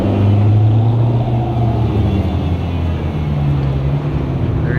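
A Ferrari sports car at a Beverly Hills car show sends out a loud, steady low engine rumble from close by, holding fairly even throughout.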